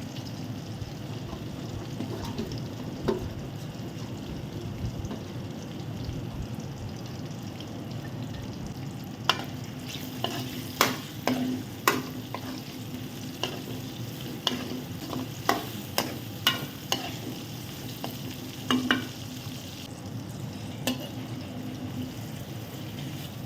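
Hogplum pieces sautéing in hot oil in a pan for pickle, a steady low sizzle with repeated sharp scrapes and clinks of a spoon stirring against the pan, close and without talk.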